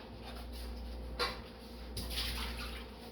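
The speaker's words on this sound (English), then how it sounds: "I'm going to pour it on my pot and I will start cooking on the stove" Blended cabbage liquid is poured into a pot on a stove, a faint, soft splashing and trickling that swells after a light knock, heard quietly with no voices.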